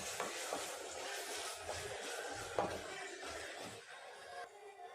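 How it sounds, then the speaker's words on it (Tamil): Ground tomatoes and garlic sauté in a pan for an egg gravy, giving a steady, close sizzle with soft stirring scrapes throughout and no voices. "இதையும் சேர்த்து நல்லா வதக்கி விட்டுருக்கேன்"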